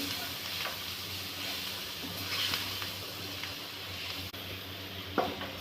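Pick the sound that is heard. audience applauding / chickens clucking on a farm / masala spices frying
masala spices frying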